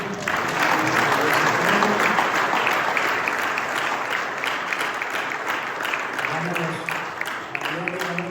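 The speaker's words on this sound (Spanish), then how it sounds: "Denle una ofrenda de palmas al Señor" A congregation at a church service claps steadily and loudly throughout, a sustained wash of applause with a voice faintly audible beneath it.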